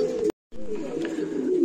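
Male pigeon of the Laudino (old Valenciano) breed cooing close by in a breeding loft, a short coo cut by a brief silence before a longer rolling coo resumes.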